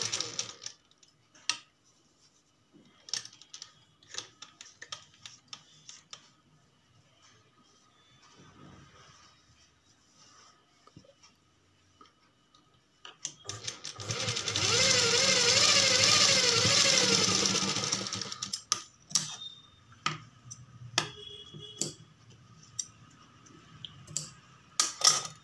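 A sewing machine runs in one steady burst of a few seconds while stitching a sleeve, surrounded by quieter handling clicks and taps before and after.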